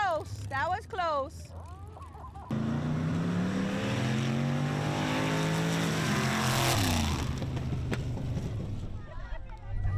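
Stock cars from 4-, 6- and 8-cylinder classes race past on a track, their engines swelling into a loud sustained roar with rising and falling pitch as they pass, preceded by brief chatter and a bird-like squeal.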